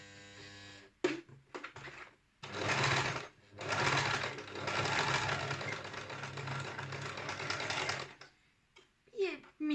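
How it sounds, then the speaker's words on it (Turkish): A home sewing machine stitching cotton cord runs in several bursts of steady, fast mechanical whirring with short pauses between them, close and fairly loud, with a voice speaking in the gaps. "Kordon ipimi döndürüp ipin geliş yönüne göre dikişimi yapıyorum."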